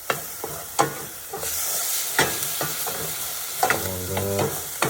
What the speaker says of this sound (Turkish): sebze çorbası için soğan ve sarımsakları bir miktar kavuruyorum